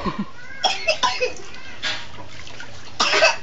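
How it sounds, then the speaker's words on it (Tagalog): Several short coughs, two in quick succession, then another harsher burst after a pause, over faint background noise. "Ubo."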